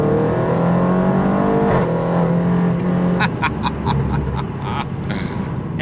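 Audi RS7 with a 700 hp engine accelerating on a loud tarmac road, a steady engine roar rising in pitch, with a gear-change dip partway and road noise throughout, heard from inside the car.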